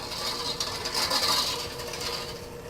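Handheld electric mixer with a whisk attachment whirring steadily through cookie dough, a continuous close motor buzz with a faint rattling grind, running on its own.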